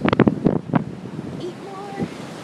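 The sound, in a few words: strong wind blowing on a beach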